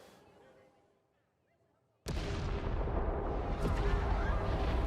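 A bomb blast in a Star Wars Andor episode erupts suddenly after a hushed pause, a loud booming roar that rumbles on and swells for several seconds.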